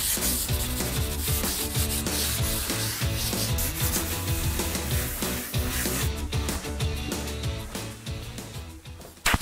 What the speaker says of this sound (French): Place au petit coup d'abrasif, grain 150.